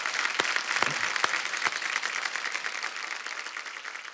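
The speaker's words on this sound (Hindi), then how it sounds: "एक बार जोरदार तालियां हो जाए हमारे सारे स्टार्स के लिए" Studio audience at a Hindi comedy talk show applauding the guest stars, some sharp individual claps at first blending into a steady wash of clapping that slowly thins.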